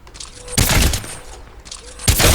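Two loud, sharp gunshot bursts from a weapon in Apex Legends, fired without attachments, each blast followed by a short decaying tail, close and punchy with quieter game ambience between them.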